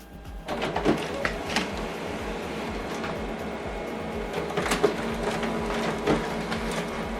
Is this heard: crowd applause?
no